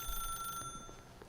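Telephone ringing in The Stanley Parable, a faint electronic ring with sustained tones that cut off partway, quiet and alone.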